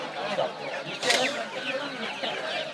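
Chickens cluck and squawk in a crowded Sunday poultry market in Sonargaon, several birds close together, with chatter from people in the background.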